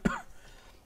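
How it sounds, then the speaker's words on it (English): A single sharp cough, loud and close, with a short throat-clearing rasp right after, then quiet room tone. "sorry about that, coughing all over the video"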